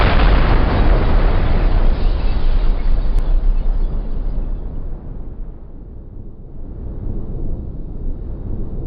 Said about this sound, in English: experienced a catastrophic fire and explosions that sent plumes of smoke into the air and rocked nearby neighborhoods